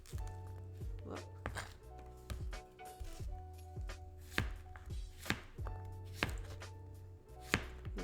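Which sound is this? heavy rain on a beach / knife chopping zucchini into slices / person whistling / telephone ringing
knife chopping zucchini into slices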